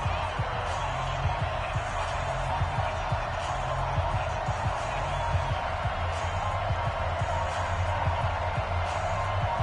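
A stadium crowd roars in an EA Sports NFL video game on PS4 ahead of a Buffalo Bills versus Oakland Raiders matchup, a dense steady cheering wash that fills the whole stretch without letting up.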